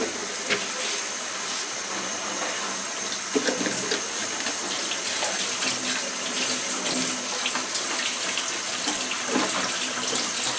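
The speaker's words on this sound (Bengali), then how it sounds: "এর মধ্যে আমি মোটামুটি 1 কাপের মতো পানি দিয়ে ভুনবো।" About a cup of water is poured into a pan of chicken masala, giving a loud, steady rush and splash with some hiss of steam. It is fairly close.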